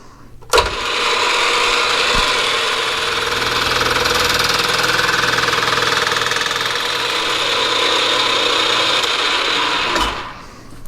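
A machining pass cuts an anodized black aluminum heat sink, taking 50 thousandths off in a roughing pass. A steady, loud, continuous whir and grind runs for about ten seconds, with a sharp onset and a clean stop.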